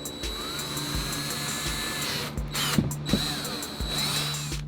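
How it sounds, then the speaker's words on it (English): A power drill bores holes through a plastic storage container: a steady motor whine with a series of short, regularly spaced thumps and bites as the bit works through the plastic, close and fairly loud. "Now when drilling these holes, I like to kindly support the underside, keeping my fingers away from the bit."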